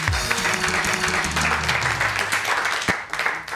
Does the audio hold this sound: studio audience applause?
yes